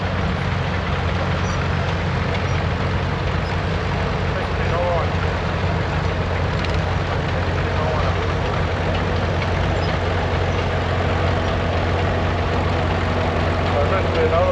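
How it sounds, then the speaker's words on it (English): A roughly 30-horsepower vintage tractor, built in 1935, idling at a vintage machinery club parade in Kingaroy, a steady loud low engine rumble that runs continuously under nearby talking and crowd noise. "Lovely little tractor, eh?"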